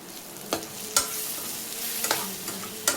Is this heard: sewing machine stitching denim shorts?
no